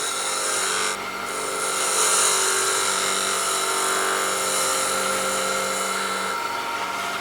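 A regular turning tool cuts into a spinning wooden handle for a hybrid pizza cutter on a lathe, giving a steady, loud whirring scrape with a hissing edge that holds from start to finish.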